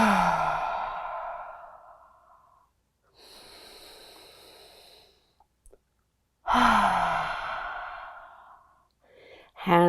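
A slow cleansing breath during a morning yoga stretch: a long audible exhale, a quieter inhale through the nose, then another strong exhale out through the mouth, close and clear with no talking.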